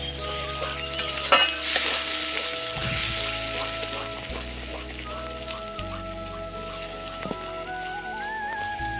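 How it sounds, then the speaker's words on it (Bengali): Spice paste with sour yogurt and sugar sautés in a pan, a steady sizzle with scraping stirs and occasional utensil knocks, while background music plays. "এখন আরেকটু ভালো করে মশলাটা কষিয়ে নিব।"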